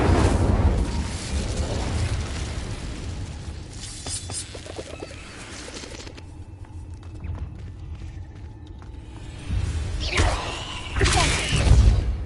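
A fire spell is cast in the wizarding game Hogwarts Legacy, giving whooshing, crackling magical bursts with rumbling booms that swell at the start, fade through a quieter mechanical stretch, then surge loudly again at the end.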